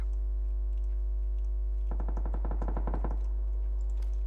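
A single rapid automatic burst of gunfire rings out in the video game PUBG Battlegrounds, lasting just over a second and sitting over a steady electronic hum.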